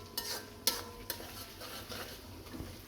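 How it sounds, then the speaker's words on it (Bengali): Browned onions sizzle quietly in a pan, with a few sharp clinks of a spatula or utensil against the metal over a soft, steady frying hiss. "এই যে আমার পেঁয়াজটা লাল লাল করে ভুনা হয়ে গেছে, ভাজা হয়ে গেছে"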